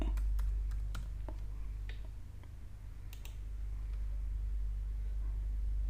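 Someone types on a computer keyboard while entering a report date in an Excel spreadsheet. Scattered, uneven key clicks come in short bursts over a steady low hum.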